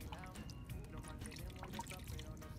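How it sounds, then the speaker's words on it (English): Water is poured from a jug into a coffee maker's reservoir, a steady close trickle and splash running continuously under a low room rumble. "Grab the water jug. Measure out your water."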